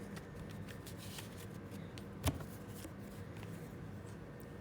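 A deck of playing cards being shuffled for a tabletop card game makes a soft, continuous riffle and rustle, broken by one sharp tap about halfway through.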